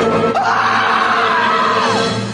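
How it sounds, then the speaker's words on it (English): A shriek played as the tone of an answering machine message, one loud sustained high scream lasting about two seconds, rising and then falling away, with muffled voices underneath. "Leave your message at the sound of the shriek."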